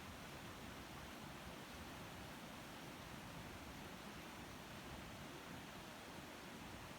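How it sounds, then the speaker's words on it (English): Animated waterfall in the X-Plane 11 flight simulator, heard as a faint, steady, broad rushing hiss that stays constant the whole time. "So here's the waterfall, which it is working."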